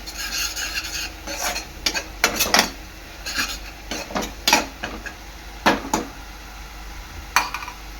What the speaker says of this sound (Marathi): आणि आपला गरम मसाला मिक्स करून घ्यायचं आहे